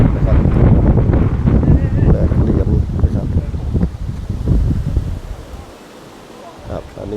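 Strong wind on the climb up Khao Khitchakut mountain buffets the microphone with loud, continuous roaring gusts that ease off toward the end, while someone speaks faintly underneath.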